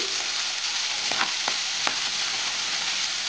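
Ground turmeric, coriander and other spices sizzle in a hot pan while being stirred, a steady bright frying hiss broken by a few sharp scraping knocks of the spoon against the pan.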